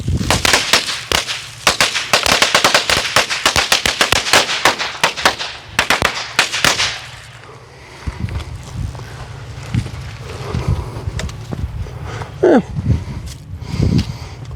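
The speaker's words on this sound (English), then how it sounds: "These are the cutting edge firecrackers." Cutting edge firecrackers thrown outdoors on a sunny day crack off in a rapid, loud string of sharp bangs for several seconds, then the volley dies away into scattered pops, footsteps and rustling.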